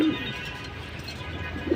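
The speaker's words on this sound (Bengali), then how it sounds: "এই হলো আমার একটা তোতা কবুতর একদম সিলভার" A single silver pigeon cooing close by, soft throaty calls at the start and again at the end over a quiet background.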